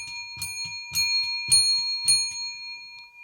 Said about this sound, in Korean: 구세군 종소리가 울려 퍼집니다.